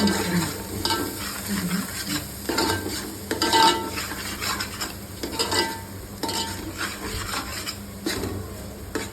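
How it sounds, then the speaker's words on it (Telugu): Fish curry (chapala pulusu) is stirred in a pot, with repeated scraping and clinking of a utensil against the metal over a steady simmering sizzle, close and continuous. "అలా కలుపుకొని బాగా కలుపుకొని"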